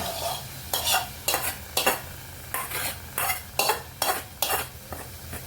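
A spatula scrapes rhythmically through a pan as boiled peas and cooked fenugreek go into frying masala for methi malai matar, about eight close, regular stirring strokes over a soft sizzle.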